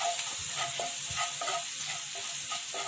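Frying in a pan with steady rhythmic stirring, a constant close sizzle punctuated by regular scraping strokes of a spoon, roughly every half second, while a vada pav filling is prepared.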